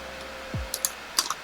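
Keys pressed on a CAS calculator keypad, a few faint, quick clicks in a small cluster near the end, with a soft thump just before them.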